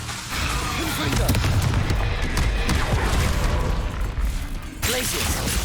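Confringo fire spell explosions in Hogwarts Legacy, a dense run of booming blasts and rumbling impacts with a short drop near the end, loud and continuous over game noise.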